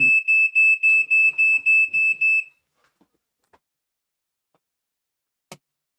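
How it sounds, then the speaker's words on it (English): A fire alarm beeps loudly, about nine rapid shrill pulses in a steady rhythm for a couple of seconds, then falls silent except for a few faint clicks in a home kitchen. "Fire alarms going off, people, you know what I mean?"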